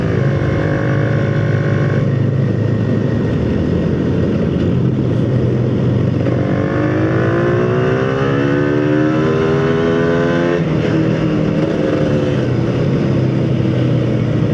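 A motorcycle overtakes on a road near Puncak Aher in Ciletuh Geopark, its loud, close engine revving and climbing in pitch, easing off, then rising again in sustained passes with no talk.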